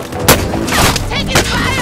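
Gunfire in the shooter game Call of Duty: Modern Warfare, a few sharp close shots and bursts over dense battle noise, all within a brief hectic moment.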